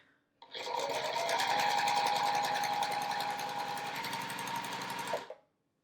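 A sewing machine runs steadily for about five seconds, stitching fabric strips together for a quilt block. Its fast, even needle rattle starts and stops cleanly, with no talk.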